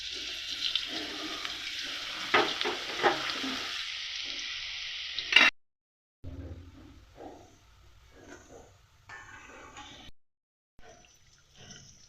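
Boondi batter fries in hot oil in a kadai with a steady close crackling sizzle that cuts off abruptly midway, leaving quieter intermittent sizzles and stirring sounds afterward.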